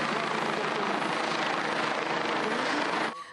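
Helicopters roar during a firefighting exercise with a simulated blaze, a dense, loud and steady rotor-and-engine wash filling the scene for about three seconds before cutting off abruptly.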